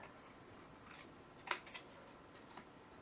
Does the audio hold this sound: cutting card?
yes